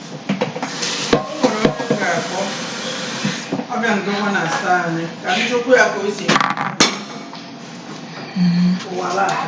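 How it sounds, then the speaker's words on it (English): Rapid knife chopping of small tomatoes on a cutting board, repeated sharp taps in bursts, close by, with a person talking over much of it. "I'll go ahead and chop the little tomatoes up."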